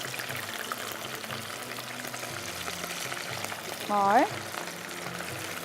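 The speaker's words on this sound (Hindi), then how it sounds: "बहुत ही जल्दी प्रॉन्स जो है वो फ्राई हो जाते हैं" Prawns, half coated in batter, fry in a pan with a faint, continuous sizzle, and a voice speaks briefly partway through.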